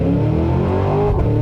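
2024 Cadillac Escalade V-Series launching from launch control, a loud close engine roar with rising revs through the gears, no talk.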